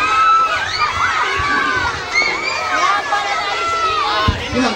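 Schoolchildren at an inter-class race for a city anniversary celebration shout and cheer loudly for classmates, high excited voices overlapping in a dense crowd with scattered claps and chatter throughout.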